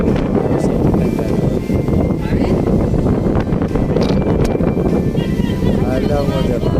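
Strong wind in Boracay buffets the microphone in a constant low roar, with faint voices and background sounds mixed underneath.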